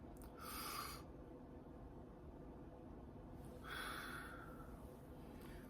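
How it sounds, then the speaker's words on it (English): Two slow breaths in and out, each a soft rushing whoosh of about half a second to a second, faint and spaced apart over a low steady background hum. "Breathe in, breathe out."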